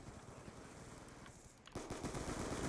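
Rapid gunfire from Black Ops 2 plays in a steady stream of quick, sharp shots that grow denser and louder near the end, with no talking over it.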